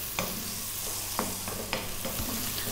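Onions are stir-fried in a pan over fairly high heat, a dense steady sizzle with a few sharp scrapes and taps of the spatula, close and with no voices.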